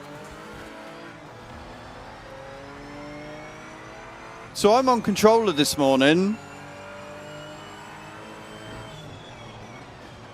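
Racing game cars roar past in a short, loud burst of rising and falling engine whines about midway, after which the sound fades and a person keeps talking quietly throughout.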